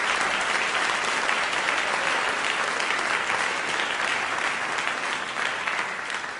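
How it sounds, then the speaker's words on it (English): Dense, steady audience applause fills the room without a break, a large crowd clapping evenly from start to finish. "invite one more round of applause to Bob Rosencrantz for making this all possi"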